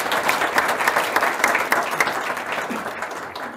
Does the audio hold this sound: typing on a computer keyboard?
no